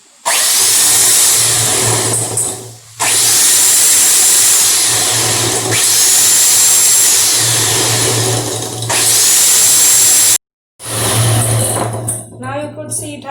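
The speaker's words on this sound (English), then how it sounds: "So this is an electric beater." An electric beater whisks a coffee mixture at low speed, a loud steady whirring in several long bursts separated by brief stops, with a voice talking over parts of it.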